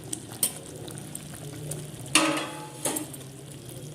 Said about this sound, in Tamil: இந்த ஸ்டேஜில் நம்ம வந்து இந்த பன்னீரை, நம்ம வெட்டி வச்சுருக்கிற பன்னீரை போட்டுடலாம்